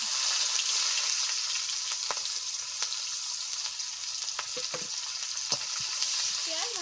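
Chopped onions frying in oil with whole garam masala and a bay leaf in a pan for fish curry, a constant close sizzle with occasional clicks and scrapes from stirring.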